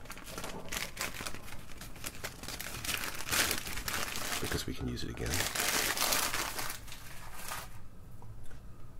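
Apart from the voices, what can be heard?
paper bag crinkling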